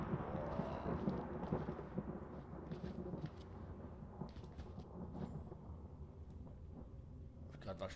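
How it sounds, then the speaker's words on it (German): Rolling thunder from a thunderstorm with lightning in the horror video game Outlast, a dense low rumble sustained throughout with steady rain-like noise, fairly loud and continuous, with faint voices mixed in. "Das ist immer auch so ein Blitz."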